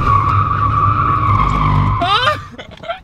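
Car tires skid and squeal on hot ground, a loud sustained screech with engine roar that cuts off abruptly and gives way to brief scuffing and faint voices nearby.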